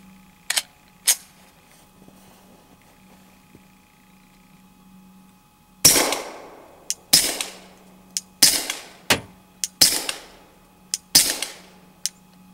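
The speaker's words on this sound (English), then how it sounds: "We've added a silencer called Osprey suppressor. Let's see if you can hear the difference." Suppressed pistol shots using an Osprey suppressor and 147 grain Federal ammunition: two sharp early cracks, then a regular series of about eight loud, close shots with short gaps between them, no talking.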